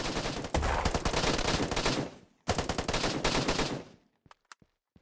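Sustained automatic gunfire in a tactical shooter game, bullets hitting and passing through a fence, two long loud bursts separated by a brief pause, then a few scattered sharp single shots fading out at the end.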